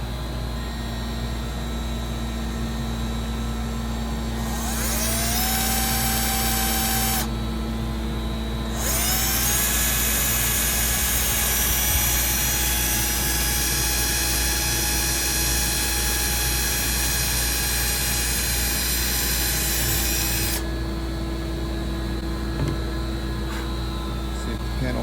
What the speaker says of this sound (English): we're going to drill a little hole right here